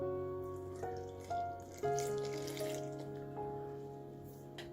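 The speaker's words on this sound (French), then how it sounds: "Et je vais ajouter le lait tiède." About 170 g of warm milk is poured into bread dough in a kitchen, a close, gentle liquid stream whose tone shifts as it flows, running steadily without speech for a few seconds.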